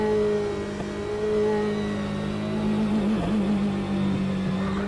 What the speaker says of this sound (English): It's just the fluctuations on the engine sounds so good.